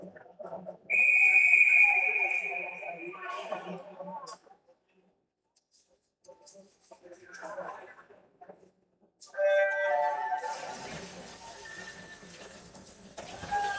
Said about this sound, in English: I hear the whistles fine in my ear